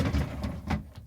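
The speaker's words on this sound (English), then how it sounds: "now we can install the vegetable drawers back in" A plastic vegetable drawer slides along its rails into a Samsung refrigerator, a short close scraping rumble with a soft bump, no talking.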